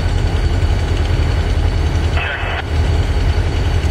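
A Norfolk Southern freight train rolls past nearby with a steady, heavy low rumble and grinding of cars that continues unbroken throughout, with no talk over it.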